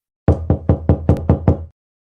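Seven loud, evenly spaced knocks strike a door up close in a quiet house at night, each a sharp thud, then silence.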